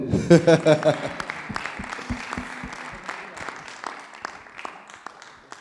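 Audience clapping at a music production demonstration, a scattered round that starts over a few punchy drum hits and tapers off, moderately loud and fading toward the end.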